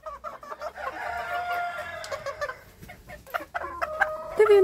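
Hens in a village yard, including a speckled one, cluck and cackle nearby in uneven bursts at moderate loudness, with no talking.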